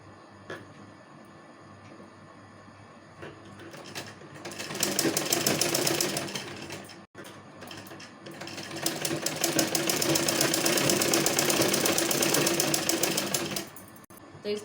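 A sewing machine stitches the seams of a lined kurti in two long, loud, rapid runs, the second longer, over a faint background hum, up close.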